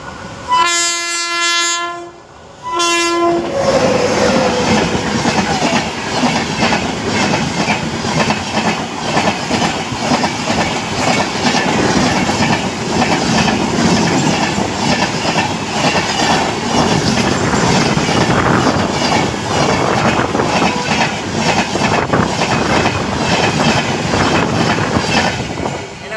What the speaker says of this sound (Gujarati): તો ટ્રેન આવી ગઈ છે તમે જોઈ શકો છો